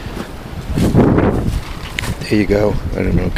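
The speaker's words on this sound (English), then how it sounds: "Sorry for the wind" Outdoor wind buffets the microphone in cool spring weather, with low rumbling gusts that swell and fade while someone talks over them.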